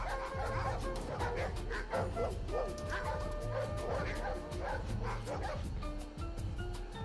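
Dogs in the Resident Evil video game bark, yip and whimper repeatedly in quick bursts, loud and fairly close, over a low background rumble.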